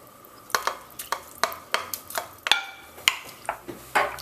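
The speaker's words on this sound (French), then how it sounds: "On brasse un peu" A spoon stirs browned beef and flour into warmed broth inside a slow cooker for a vegetable stew, giving a run of close, rhythmic scrapes and knocks against the pot with a soft wet swish between strokes.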